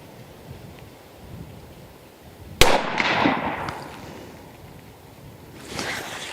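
A single sharp rifle shot from a 6.5 Creedmoor cracks loudly and rolls off into a long, fading echo over a steady outdoor breeze. A fainter burst of noise follows near the end, and there is no talk.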